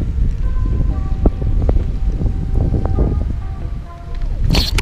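Strong wind blowing outdoors on a Florida fishing trip, a continuous loud roar buffeting the microphone throughout, with rustling and a sharp gust near the end.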